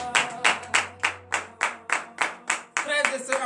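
Church congregation clapping in praise during a morning prayer service, about a dozen sharp, evenly spaced claps in a steady rhythm, then a looser burst of applause, heard close.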